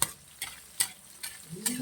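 Chopped tomatoes are cooked in a pan and stirred in regular strokes, each scrape and sizzle coming roughly every half second over a soft steady frying hiss.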